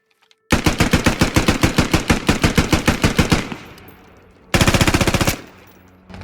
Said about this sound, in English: As you've just heard, Anders has updated the M4 sound and it's pretty sick